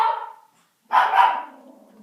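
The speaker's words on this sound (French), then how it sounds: "Ça, c'est mon chien." A dog barks twice, close and loud, with a short gap between the sharp yelps and a brief fading tail after the second.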